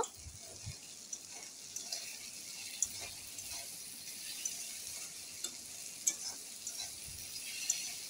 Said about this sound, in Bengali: সবগুলি একসাথে ভেজে নেব।